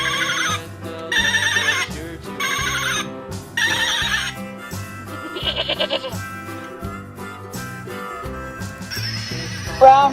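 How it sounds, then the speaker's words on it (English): A brown horse neighs in a children's farm-animal song, its whinny sitting among loud, rhythmic music with repeated bright bursts. "Brown horse."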